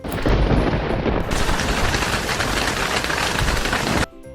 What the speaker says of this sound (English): What's better, rain